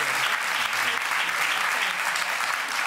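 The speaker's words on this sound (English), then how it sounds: "we have to clap" An audience claps in a continuous, even burst of applause, close and full, holding steady for the whole moment without breaks.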